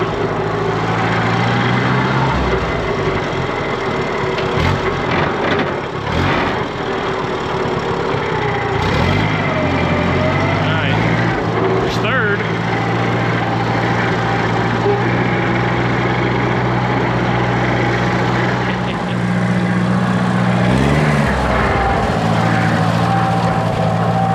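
A VW Beetle's engine runs steadily and loud throughout, with revs rising and dipping as gears are shifted, coming from the car itself while it is being driven after a frozen, cracked transmission.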